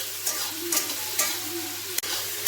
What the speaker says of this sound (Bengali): ভালো করে নুন দিয়ে টমেটোটাকে কষে নেব।